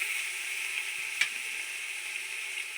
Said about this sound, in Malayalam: നമ്മുടെ ഉള്ളി നന്നായിട്ടൊന്ന് വഴണ്ടി വരട്ടെ, അതുവരെ നമുക്കൊന്ന് ഇളക്കി കൊടുക്കാം.